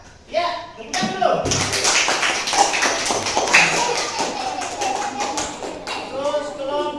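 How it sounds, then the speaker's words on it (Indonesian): A classroom group claps for group 3 during a teacher training session, a dense burst of hand claps lasting several seconds at close range with talking underneath. "kelompok 3, ya tepuk tangan dulu."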